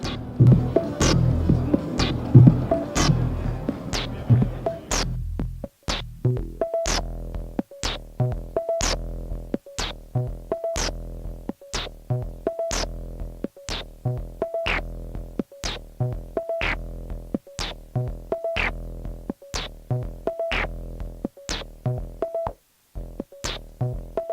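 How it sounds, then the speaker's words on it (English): An IK Multimedia UNO Synth drum pattern cycles steadily: punchy kicks, snare hits, tonal toms and a bright cowbell repeating in an even electronic loop. "a drum pattern where we start off with a kick drum sound"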